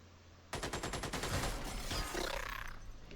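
Rapid machine-gun burst from a gunner in the Xenonauts strategy game, a dense run of close, loud repeated shots starting abruptly and tailing off over about three seconds, with no talking.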